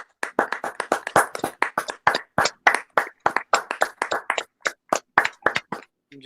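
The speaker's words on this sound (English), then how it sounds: "can we just have a final round of applause for everyone?" Steady clapping fills the space as the audience applauds the poets at the close of a live-streamed poetry event: a run of crisp, separate handclaps in quick uneven rhythm, fairly close, then stopping abruptly.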